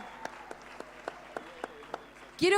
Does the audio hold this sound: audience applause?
yes